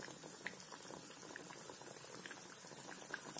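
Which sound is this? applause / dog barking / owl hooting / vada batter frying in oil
vada batter frying in oil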